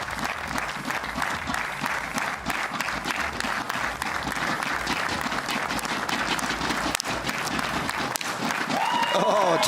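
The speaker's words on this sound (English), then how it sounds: "she's certainly got a cheer from the crowd" A crowd at a women's 10m air rifle final in Hamar, Norway bursts into sustained applause and cheering after the final shot, dense clapping that continues steadily, with a commentator talking over it.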